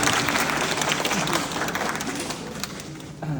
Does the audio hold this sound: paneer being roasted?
no